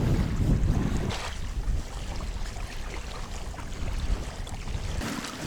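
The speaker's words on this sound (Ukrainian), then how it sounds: "на цей вітер, що прямо в лице дує" Strong wind buffets the microphone with a constant low rumbling roar, gusting throughout, with a faint wash of water in the background, during feeder fishing on a shore.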